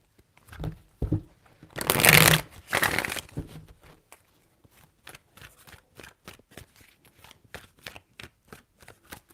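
Tarot cards being shuffled in two loud, dense riffling bursts close by, followed by a long series of soft, quick card taps and flicks.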